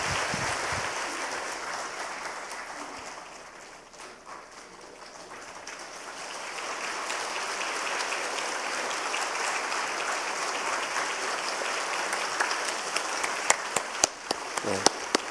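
A church congregation applauds in a long, dense wash of clapping that dips briefly, then swells back and holds steady, with a few sharper claps near the end.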